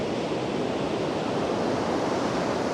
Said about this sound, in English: Waves are pumping.